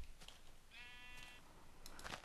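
Sheep in the Minecraft video game give a single short, wavering bleat, faint and fairly close, in an otherwise quiet moment without talk.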